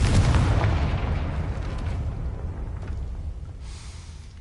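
A Confringo blasting spell from the Hogwarts Legacy video game goes off as one loud, deep explosion that rumbles and slowly fades over several seconds.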